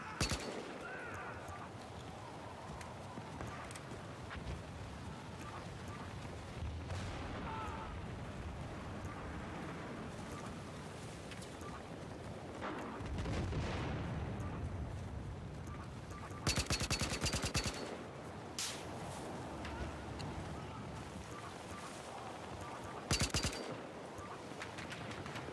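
Gunfire in a Battlefield Hardline multiplayer match, distant crackling shots and bursts under a windy ambient bed, with a few louder close volleys near the end, separated by stretches of quieter background.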